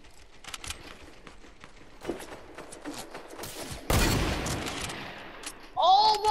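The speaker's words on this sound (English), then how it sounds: "Oh, somebody's shooting at us." Rapid bursts of gunfire ring out in the Fortnite video game, with a sharp volley and a sustained loud barrage near the end, over a busy in-game background.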